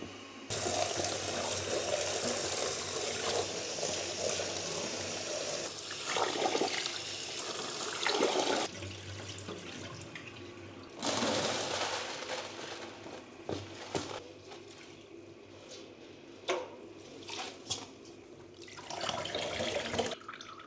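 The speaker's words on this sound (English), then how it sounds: "But first I need to wet the basket." Water runs steadily from a tap to wet a woven rice steaming basket, a continuous close rush with short breaks and small splashes and drips as the flow shifts.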